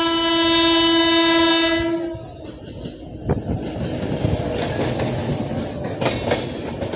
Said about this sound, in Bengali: এই হচ্ছে আমার ভারত ভ্রমণের আরও একটি লোকাল ট্রেন